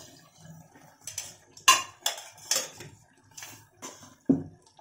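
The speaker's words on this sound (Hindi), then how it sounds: "अपना ये चाट भी चलाते रहेंगे ताकि मसाले हमारे जले नहीं" A spoon stirs tomato chaat with spices in a metal pan, giving a series of close, irregular scraping and clinking knocks against the pan with short pauses between strokes.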